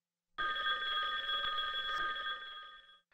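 Classic Skype ringtone previewed on its own: a bright, steady electronic telephone-style ring with sustained high tones, loud and close, lasting about three seconds before fading out.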